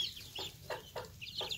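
Muscovy ducks let out from their pen on a farm in Can Tho give a few short, breathy hissing calls in quick succession, close by and fairly faint.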